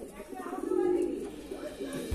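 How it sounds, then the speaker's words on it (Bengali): A Kalanka female pigeon gives a short, soft, close coo, low and murmuring, heard over background speech. "এটা কালাঙ্কা মাদি পায়রা।"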